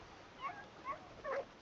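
A dog at a fishing spot whimpers faintly three times, in soft high whines over steady outdoor background noise.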